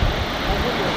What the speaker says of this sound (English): It's a very fast moving river